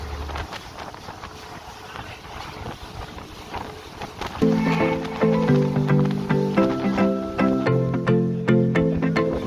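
A boat travelling on the Red Sea off Yanbu, its steady wind and water rush giving way halfway through to a louder, rhythmic rumbling with tonal engine bands, no talk.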